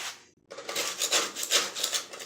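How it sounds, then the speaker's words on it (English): A thin bladed metal scraper rasps across a push mower deck, scraping off caked grass clippings in a steady series of close, rhythmic strokes after a brief pause. "What I find works real well is a thin bladed metal scraper."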